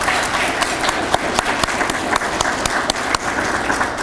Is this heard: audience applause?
yes